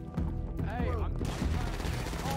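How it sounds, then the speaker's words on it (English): Gunshots in a GTA roleplay game, a burst of shots mixed with shouting voices and game noise, fairly loud and continuous throughout. "Oh, shots!"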